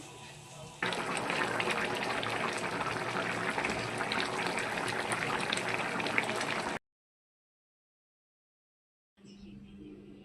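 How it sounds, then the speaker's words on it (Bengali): Rohu fish curry broth bubbles in a pot on the stove, a steady, dense churning and gurgling that swells after a quiet start, then cuts off abruptly before a faint return. "ঝোলটা ফুটে এলে মাছগুলো দিয়ে দেবো।"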